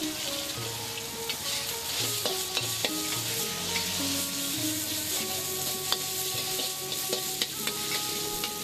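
Pork and egg stir-frying in a wok at a Thai street vendor's stall for pad siew, a steady loud sizzle broken by repeated clanks and scrapes of a stainless steel wok turner against the pan.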